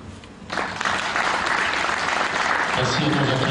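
A crowd applauds at the inauguration of a pétanque club, sustained clapping from many people that swells after a quieter start and stays even throughout, with a voice beginning to speak near the end.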